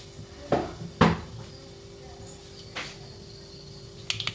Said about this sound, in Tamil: இப்போ கடுகு நல்லா பொரிஞ்சிருக்கு.